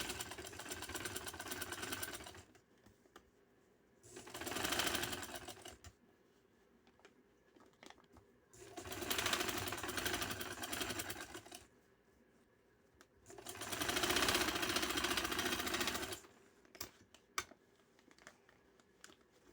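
A sewing machine stitches fabric for a sleeve and trouser design in three distinct loud whirring runs of a few seconds each, separated by quieter pauses with small handling clicks.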